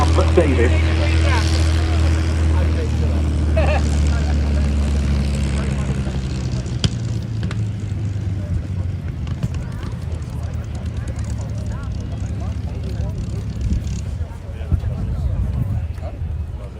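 A Fairey Swordfish biplane of the Navy Wings Heritage Flight drones away at an airshow, its propeller engine loud at first, then gradually fading and thinning into the distance while a commentator talks over it.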